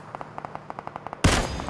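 Rapid gunfire in Battlegrounds (PUBG): a string of evenly spaced faint distant shots, then a single loud close blast that rings out, with no talking.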